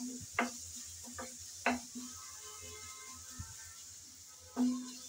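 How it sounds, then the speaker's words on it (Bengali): Garlic paste, ginger paste and chopped onion fry in a pan with a quiet, steady sizzle, broken by a few sharp knocks of a spoon stirring against the pan. "রসুন বাটা, আদা বাটা আর পেঁয়াজ কুচি ভালো করে নেড়ে চেড়ে সামান্য ভেজে নেব"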